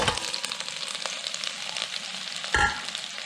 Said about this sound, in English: To the melted butter, we're going to add sliced onion and diced or sliced cabbage